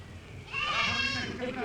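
A goat in the desert bleats once, a loud wavering cry near at hand that swells and fades over a low background rumble.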